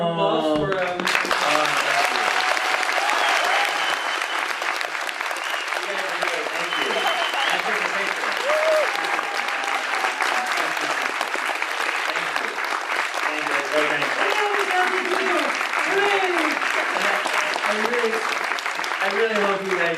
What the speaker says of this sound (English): please give them more applause for